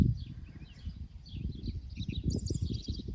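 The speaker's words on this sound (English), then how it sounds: "listening to the birds" Birds chirp and call at a prairie cabin site, scattered high twitters repeating throughout over a low rumble of wind or handling noise, fairly faint and with no talking.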